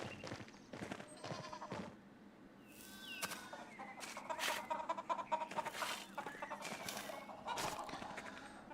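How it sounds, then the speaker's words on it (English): Farmyard animals, with chickens and other livestock calling, in the Pentiment town commons: scattered clucks and bleating cries over a soft outdoor ambience, fairly close and moderately loud, with a voice speaking in places. "Chickens."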